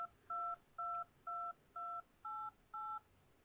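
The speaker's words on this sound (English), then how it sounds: "I'm just gonna mash the 4 and the 6 key and we'll see how the noise goes." Phone keypad tones from the 4, 6, 8 and 2 keys pressed in turn: seven clear, evenly spaced dual-tone beeps, each about a third of a second long, with a shift in pitch partway through, heard alone against a quiet background.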